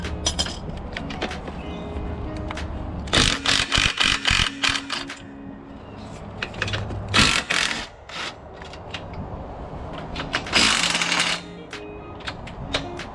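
Bolts on a trailer's DO35 coupling being broken loose with a breaker bar or impact wrench: several short bursts of rapid rattling hammer clicks, close by, separated by quieter scraping and handling noise.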